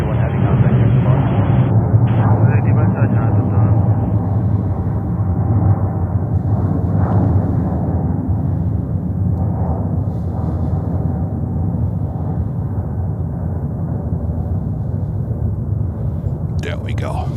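Ilyushin Il-96 airliner departing JFK, a loud, steady broadband engine roar sustained throughout, with radio chatter and voices running underneath.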